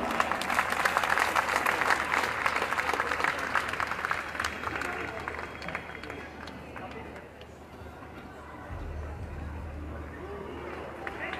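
An audience at a school annual day gives a loud round of applause: dense, sustained clapping from a large crowd that gradually thins and fades, with a low rumble near the end.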